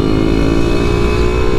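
A Kawasaki Ninja SS 150 two-stroke motorcycle engine revs close by, with a loud, steady, buzzing drone that holds at high revs without letting up.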